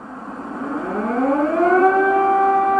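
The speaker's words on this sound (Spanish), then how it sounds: "desde la madrugada las sirenas no han dejado de sonar advirtiendo que la capital ucraniana está bajo ataque" An air raid civil defense siren wails over Kyiv during an attack, its tone rising steadily and growing louder, sounding alone without any voices.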